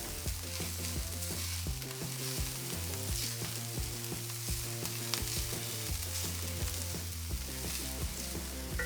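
Spring onions sizzling in a pan for kimchi fried rice, a steady close crackle of frying with occasional stirring scrapes and a low background hum, continuous and fairly loud with no talking.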